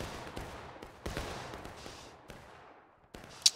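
Musket volleys crack out in War of Rights, a large Civil War-era battle game, with repeated distant and overlapping gunshots that fade into echoing rolls, then a sharp nearby shot at the end.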